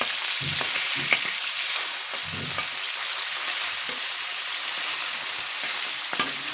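Hilsa fish fries in oil after being flipped, giving a steady close hiss. A few soft scraping stirs and taps break through the sizzle.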